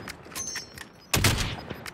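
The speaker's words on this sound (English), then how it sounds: "let's see how bad this fucking machine gun does, shall we?" A machine gun in Call of Duty Warzone fires a burst of rapid, loud shots, some quieter distant pops first, then a sharp close burst near the end.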